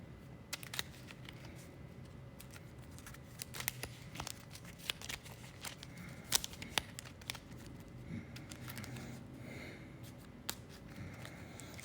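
Cards being shuffled during a tabletop board game, a run of soft riffling and snapping clicks scattered over about twelve seconds against a quiet room background.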